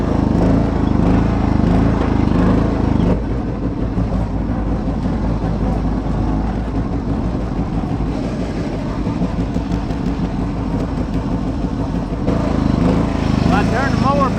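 A John Deere 175 Hydro riding mower engine runs continuously at close range with a loud, steady low rumble and droning mechanical hum, its tone shifting slightly partway through while someone talks over it.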